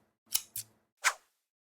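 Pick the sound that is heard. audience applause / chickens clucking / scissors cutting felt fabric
scissors cutting felt fabric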